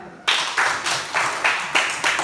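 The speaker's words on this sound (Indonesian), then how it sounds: "Tepuk tangan." A small group claps in a classroom, sharp bursts of hands arriving in a quick, roughly regular rhythm of about six to seven beats, close and fairly loud with no talking.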